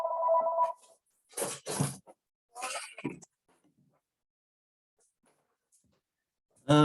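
Telephone ringing indoors, with short electronic ring bursts separated by gaps of silence and another ring starting at the end, near and fairly loud.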